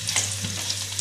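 Kathiyawadi garlic chutney added to a kadhai of hot oil with a pinch of hing sizzles and crackles steadily, close and continuous, with no talking.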